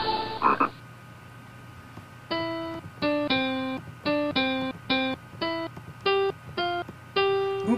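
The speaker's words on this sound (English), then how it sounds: "let's have a little fun with the frog playing music" A cartoon frog in the Just Me and My Mom video game plays music as a series of short, bright, keyboard-like notes in an uneven melody, preceded by a brief croak-like burst, with faint background hum.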